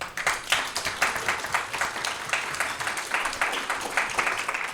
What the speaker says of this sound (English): So we owe Marjorie a big round of applause for that.